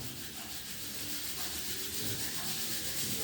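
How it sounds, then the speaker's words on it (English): Two palms rubbed briskly together make a close, steady dry friction hiss that runs continuously for a few seconds, soft and even with no voices. "rub the palms."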